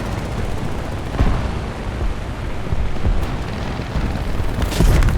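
Rumbling, dense gunfire bursts and booms from a War Thunder air arcade battle against a Bf 109, a continuous loud mix of engine drone and machine gun fire with no talking.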